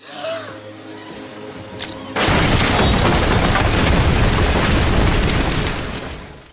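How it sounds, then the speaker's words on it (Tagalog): A deep, loud explosion erupts after a short quieter stretch and rumbles on for several seconds before slowly fading. "Hindi nagtagal ay nagkaroon ng malakas na pagsabog."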